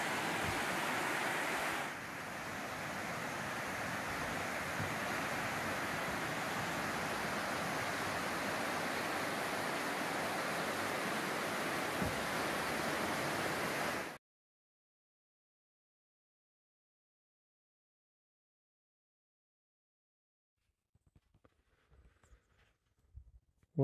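A river flows past a small covered bridge on a farm property in a steady broadband rush of moving water that runs loud for about fourteen seconds, cuts to silence, then a few faint soft sounds follow.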